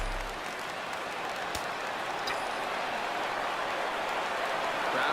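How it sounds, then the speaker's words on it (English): Stadium crowd in the MLB 16 The Show baseball video game, a steady broad roar of cheering and applause that swells slightly over a few seconds, with a brief sharp knock early on. "Crowd gets up for the 3-2."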